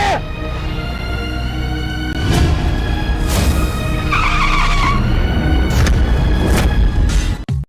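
A car skids, with a long loud tire screech over a rumbling engine and a sharp impact-like burst toward the end, close and intense.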